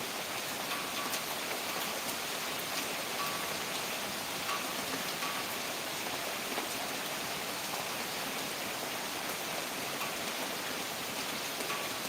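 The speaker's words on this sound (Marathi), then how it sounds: "आज शेवटचा श्रावण सोमवार आणि पाऊसही खूप मस्त येत आहे" Steady monsoon rain falling on a Shravan Monday, a constant dense hiss of drops on surfaces with no break, moderately loud and unaccompanied.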